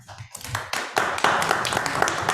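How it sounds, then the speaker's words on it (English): A small group claps briefly, scattered hand claps building into light applause, fairly close and informal. "I don't need an applause."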